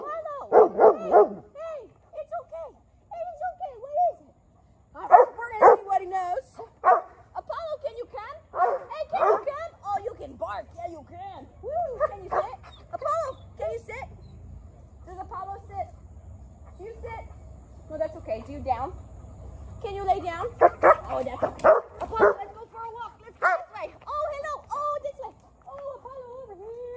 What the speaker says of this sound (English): He likes to bark at things.